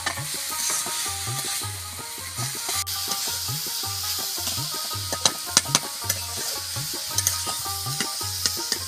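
Continuous sizzling of greens frying in a pan, with a steady rhythmic scraping and stirring and occasional sharper clinks of a utensil.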